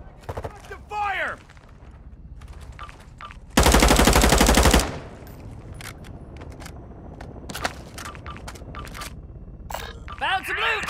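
Rapid automatic gunfire in a Call of Duty match, a dense loud burst lasting about a second amid scattered game effects and voices talking.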